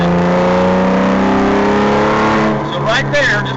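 A Porsche R43 flat-six engine revs up steadily on a track, rising harmonics climbing in pitch as it comes into the power band, with a voice speaking over it near the end.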